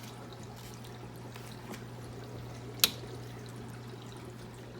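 Water trickles faintly and continuously through an aquarium sump wet/dry filter under a steady low hum, with a single sharp click partway through.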